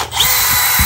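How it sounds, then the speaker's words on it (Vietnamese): A new cordless drill with a 13 mm autolock chuck and three functions runs steadily at full speed, a loud continuous whirring whine close by, heard on its own. "Khoan mẫu mới, đầu kẹp autolock 13 mm, ba chức năng rồi ha."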